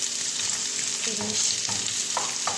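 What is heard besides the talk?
chopped onions frying in hot oil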